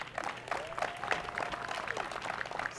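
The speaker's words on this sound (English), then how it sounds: "let's give our future, our youngsters, a clap." Audience at the Henrico PAL grand opening ceremony claps for the youngsters, a moderate, steady patter of hands spread across the room with a faint murmur of voices underneath.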